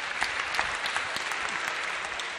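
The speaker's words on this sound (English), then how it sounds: "A big round of applause" A lecture-hall audience bursts into sustained, even applause, with many hands clapping at once in a loud, continuous patter that holds steady throughout.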